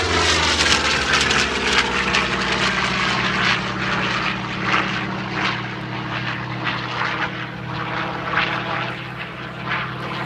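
An F8F Bearcat with a Pratt & Whitney R2800 Double Wasp two-row radial engine drones loudly overhead, a deep, steady propeller roar that slowly fades as it passes.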